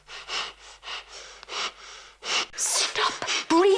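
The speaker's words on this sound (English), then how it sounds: "stop breathing like that." A girl breathes heavily in quick, ragged gasps and sniffs, close and fairly loud, with a few short voiced catches toward the end.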